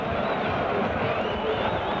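Rugby league crowd in a packed stadium roaring and cheering as fans rise to their feet during a Warrington v Oldham match, a dense, steady wall of distant crowd noise with an announcer's voice faintly mixed in.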